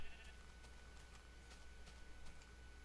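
Sheep bleating in a block-building game, brief repeated calls over a steady faint background hum, with no talk.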